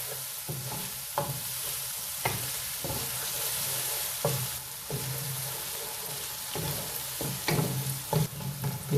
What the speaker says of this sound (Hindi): प्याज को आपने बहुत ज़्यादा फ्राई नहीं करना है, हल्का सा फ्राई हो जाए